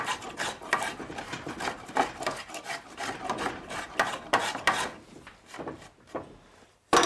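A wooden door propped on a makeshift workbench wobbles and rubs while being worked on, giving a run of scraping, rasping knocks at close range with an irregular rhythm and a sharp bump at the end.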